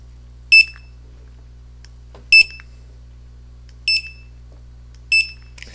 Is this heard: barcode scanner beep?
yes